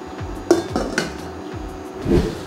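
A metal lid clanks onto a pot of simmering spinach (eru) with a few sharp clinks and a final rattling settle, close and fairly loud.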